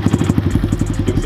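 A 2020 Kawasaki KLX 110 pit bike fitted with a Pro Circuit T6 exhaust and UNI air filter idles nearby, a loud, rapid, steady single-cylinder putter with a clattery, thumping pulse.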